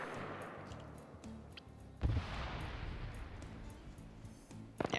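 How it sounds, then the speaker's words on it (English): Mortar rounds landing northwest of a command position in a military video game, with a heavy impact thud at two seconds and a sharp burst near the end over a rumbling battlefield background of distant firing. "Northwest of the command position, there is mortars landing."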